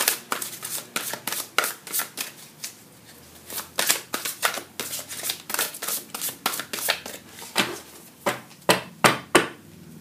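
Tarot cards shuffled and drawn at close range, a long run of crisp riffling slaps and snaps in quick bursts, loud and dry with brief pauses between shuffles.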